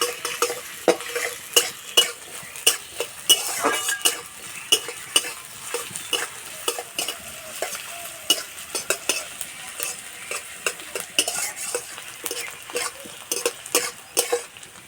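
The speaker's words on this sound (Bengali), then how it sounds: "পেঁয়াজ ভালো করে ভেজে নেব" Chopped onions fry in mustard oil in a wok, a steady sizzle broken by frequent sharp scrapes and clinks of a spatula being stirred through them, close and continuous throughout.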